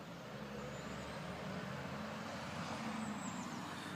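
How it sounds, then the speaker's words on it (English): A van crossing a bridge, heard as a steady, fairly loud low road rumble that holds unchanged throughout, with faint higher traffic hiss above it. "as you can see where that van's going over"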